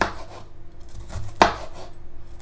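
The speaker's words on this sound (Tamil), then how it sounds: "இந்த அப்படியே முளையும் வெட்டி எடுத்துக்கொள்வோம் முதல்" A single sharp knife cut through bitter gourd lands on a board, close and crisp, amid quiet kitchen background.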